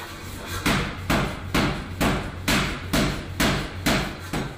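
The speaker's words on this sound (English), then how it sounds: "And I'll forge it down square" A hammer strikes Damascus steel during forging, eight loud, evenly spaced metallic blows in a steady rhythm, close up, with a low hum between strikes and no talk.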